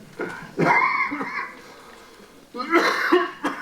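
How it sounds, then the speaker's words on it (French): A lecturer speaking about the social thought of the Church clears his throat and coughs in two rough bursts, close and fairly loud, separated by a quieter pause. "Ne vous inquiétez pas, je tousse toute l'année."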